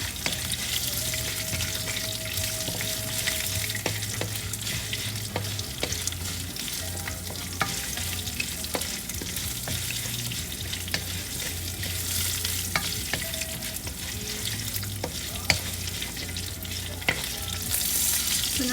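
Pepper chicken masala ingredients fry in a pan with a steady, close sizzle throughout, broken by frequent spoon scrapes and clicks as they are stirred.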